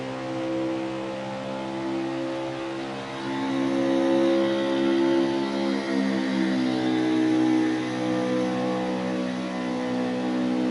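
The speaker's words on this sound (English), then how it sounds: "Listen to the tune of the engine." Race truck engine from a Misfits Racing League setting droning and revving, a loud steady mechanical hum that swells in pitch and intensity midway, then settles back, with no voices over it.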